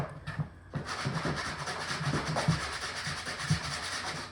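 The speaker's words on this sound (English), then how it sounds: "we're gonna sand the edges where I made the cuts" Sanding the cut edges of a homemade coffee table produces a close, continuous gritty rubbing with rhythmic back-and-forth strokes roughly every half second.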